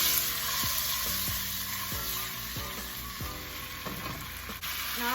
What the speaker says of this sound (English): Now I'm adding my vegetables.